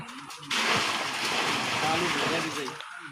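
Water pours in a loud, continuous splashing rush lasting a few seconds, starting abruptly and tapering off, with a voice speaking beside it.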